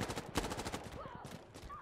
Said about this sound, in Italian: sento spari da là